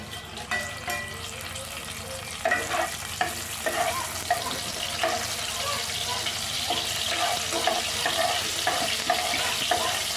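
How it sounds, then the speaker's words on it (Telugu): Whole spices (fennel seeds, bay leaf, peppercorns, cinnamon bark and cloves) fry in heating oil with a close, steady crackling sizzle, broken by occasional clinks and stirring sounds. "ఆయిల్ హీట్ అవుతున్నప్పుడు సోంపులు, మళ్ళీ బిర్యానీ ఆకు, మిరియాలు, చెక్క, లవంగాలు వేసుకుంటున్నాను."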